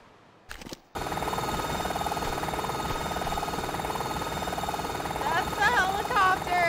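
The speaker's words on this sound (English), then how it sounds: "That's the helicopter." The helicopter from the video game Tomb Raider 2 Remastered gives a steady, loud droning whir after a brief glitchy start, and chirpy game effects rise near the end.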